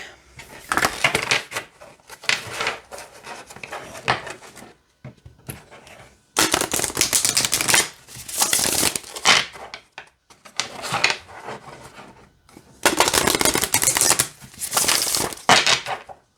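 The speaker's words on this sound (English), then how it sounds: "how about we see how they shuffle here?" A deck of oracle cards being shuffled by hand, heard as several close, crisp bursts of riffling and crunching cardstock separated by short pauses, with no talking.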